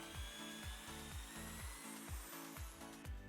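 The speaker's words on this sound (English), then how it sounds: "the jig ensures the holes are drilled into the board at a precise angle to a specific depth" A drill bores pocket holes into a wooden board through a jig, giving a quiet, repeating cycle of short low whirring pulses with faint high whine, heard close and alone.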